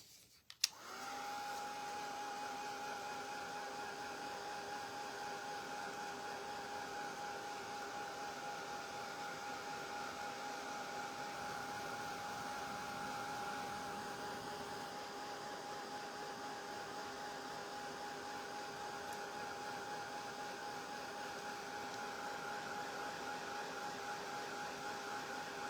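A blow dryer switches on with a click and runs as a continuous steady whine and rush of air, drying paint on a craft piece.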